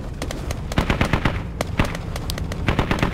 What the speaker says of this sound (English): No, he's shooting at us.